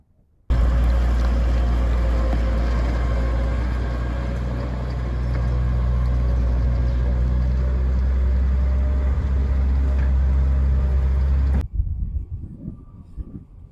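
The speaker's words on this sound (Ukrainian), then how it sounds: "Ось уже приїхав трактор з нашим посівним комплексом до поля." A heavy tractor engine, pulling a Saturn seeding complex with an Atria row-crop bar to a field, drones loudly and steadily for about eleven seconds with a deep rumble, then cuts off abruptly, leaving faint rustling and outdoor noise.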